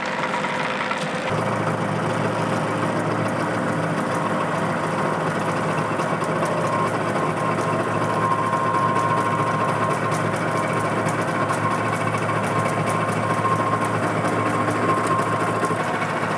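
A stump grinder engine runs steadily while grinding out a stump near a house, a continuous mechanical drone with a faint higher whine, holding at an even loudness throughout with no talking.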